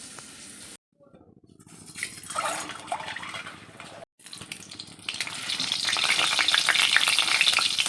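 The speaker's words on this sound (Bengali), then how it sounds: "মায়ের জন্য একটা ডিম ভাজছি" Steady sizzling of an egg frying in a hot pan, with brief gaps and a louder, hissier stretch toward the end; no talking.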